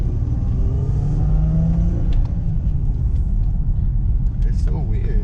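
A 6-speed rear-wheel-drive car drives and accelerates, its engine a steady close rumble rising slightly throughout, with people talking over it.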